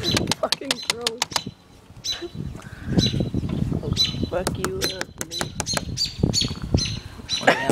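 Baby birds flap their wings and give sharp chirps and squawks in quick bursts, heard up close while people talk and laugh loudly over them.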